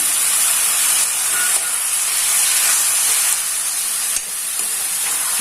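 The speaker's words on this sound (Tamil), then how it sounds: "இதை இப்போ நம்ம எடுத்து வச்சிருக்கிற சிக்கன் ஆட் பண்ணிடலாம்." Chicken pieces sizzle in a hot pan with ginger garlic paste, a loud, steady, bright hiss of frying that carries on unbroken, with one brief dip, and no voices.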